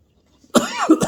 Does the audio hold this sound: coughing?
yes